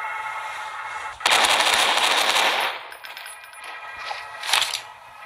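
Gunfire in the horror video game Motherbirb Horror Story 2, a loud rapid burst of automatic shots lasting over a second, followed by fainter scattered game sounds and another short crack.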